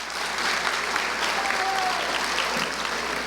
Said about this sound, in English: So we got to give him a round of applause.